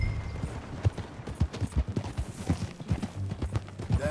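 Rhythmic clip-clop of horse hooves at a steady trot in Red Dead Redemption 2, close and fairly loud, continuing throughout with no voices.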